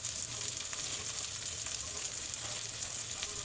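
Prawns cook down in a hot pan with ground peanuts and coriander powder for a prawn dopiaza, giving a steady, close, continuous hiss of frying that holds at an even level throughout, with no voices.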